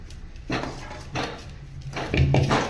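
Black gram laddu mixture is stirred in a pan off the heat, making three or four dull scraping strokes at an uneven pace, close and moderately loud.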